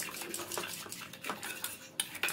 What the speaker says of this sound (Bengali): জল দিয়ে এটাকে খুব ভালো করে মিক্সড করে নেব।